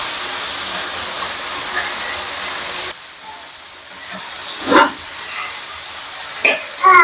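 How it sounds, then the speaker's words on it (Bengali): Prawns fry in hot oil with a steady broadband hiss that drops away after a few seconds, followed by a couple of sharp utensil clanks against the pan. "চিংড়ি মাছগুলো ভেজে নেবো, গরম তেলে দিয়ে দিচ্ছি তেলের উপরে।"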